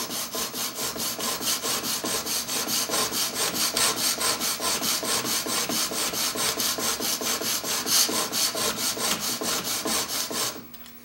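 A woodworking chisel is pushed back and forth across a diamond sharpening stone in rapid, even rasping strokes, close and continuous for about ten seconds before stopping, with no talk.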